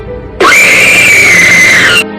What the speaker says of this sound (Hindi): वह हंसी एक भयानक चीख में बदल गई और ऐसा लगा कि आवाज ठीक हमारे बैरियर के बाहर से आ रही हो